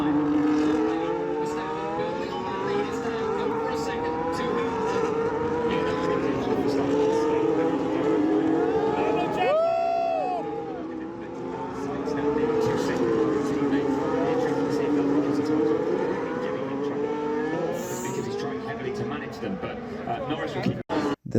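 Race cars in a Grand Prix sprint race: a loud engine whine sweeps past midway with a clear Doppler pitch drop, while a person keeps talking over it.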